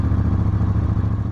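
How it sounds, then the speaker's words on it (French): A CFMoto 800NK with a KTM 790 Duke engine idles after starting, standing still, a loud, close, lumpy twin-cylinder thrum with a rhythmic pulse and faint mechanical clatter. "je vais d'abord vous démarrer le moteur à l'arrêt pour que vous puissiez l'entendre"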